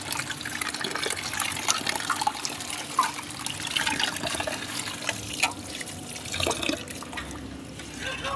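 Papaya pieces being scrubbed and rinsed by hand in water, a steady wet splashing and trickling with small drips, close and continuous throughout.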